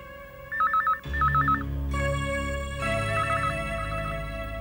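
A telephone rings indoors with a repeating electronic warble in short bursts, fairly faint and set over a layered musical score with sustained tones and low drones.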